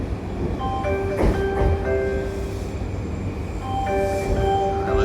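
Train ride out of Shibuya Station in Tokyo, with steady rumbling carriage noise, sustained tonal whines from the motors or brakes that rise and fade twice, and a brief swell of clatter, all continuous and close.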